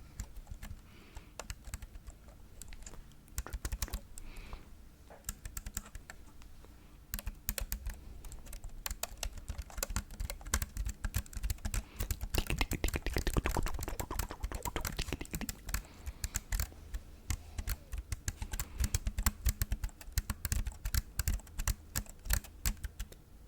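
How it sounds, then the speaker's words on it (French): Rapid clicking of keys on a small keyboard, typed in bursts with brief pauses, close and fairly quiet with no talking. "je vais également utiliser le petit clavier juste ici. Celui-là, il fait un bruit."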